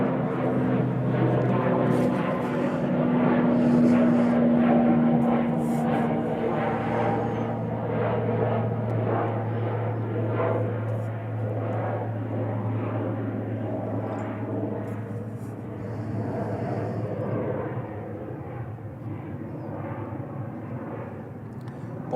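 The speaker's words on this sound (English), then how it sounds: "ATR 72." An ATR 72 turboprop airliner bound for Dublin at Manchester Airport drones steadily with a low engine hum and propeller tones, loud and continuous throughout, slowly fading slightly toward the end.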